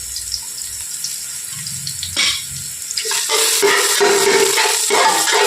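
Water pours into a pot of biryani rice that already has a little biryani essence added, a steady close splashing stream that grows louder and fuller partway through, with no talking.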